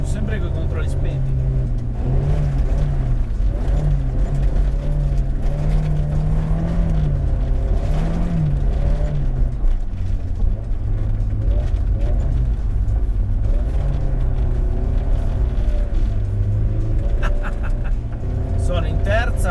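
A Honda S2000's VTEC engine in third gear drifts on snow, its tone wavering up and down with throttle blips while staying loud and steady throughout, with someone talking over it.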